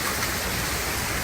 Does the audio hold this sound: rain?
yes